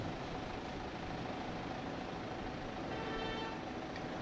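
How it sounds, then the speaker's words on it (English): A large city bus engine idles in Port of Spain, Trinidad, with a steady low rumble, close by and continuous, with no voices. "Those are the kind of buses that we have here in Trinidad."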